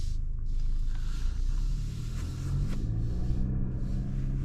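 A 2024 Mercedes-Benz GLC 300 4MATIC SUV driving in sport mode makes a steady low engine and road rumble from inside the cabin, with a slight rise partway through and no talking.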